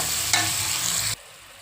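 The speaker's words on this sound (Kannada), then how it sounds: "ಸಾಲ್ಟ್ ಹಾಕ್ಬಿಟ್ಟು ಚೆನ್ನಾಗಿ ಫ್ರೈ ಮಾಡ್ಕೊಳ್ಳಿ" Salted vegetables for veg noodles fry in a pan with a loud, steady sizzle and a stirring scrape, cutting off abruptly to near quiet.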